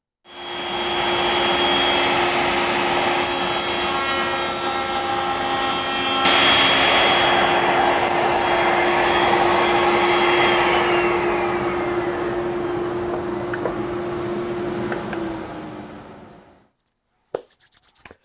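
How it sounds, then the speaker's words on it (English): Woodworking jointer and groove cutter running as wooden cabinet-door parts are fed through, a loud steady machine whine with a shift in pitch partway as the cut changes, then spinning down to silence and a few knocks. "I'll run these parts through the joiner to clean up the edges, then I'll give them another pass through the groove cutter"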